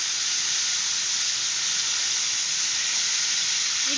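Marinated basa fish fillet cooking in a flat pan gives a steady, close sizzle and hiss that stays even throughout, with no voices.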